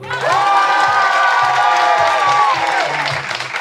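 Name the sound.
audience applauding for the Corsican fisherman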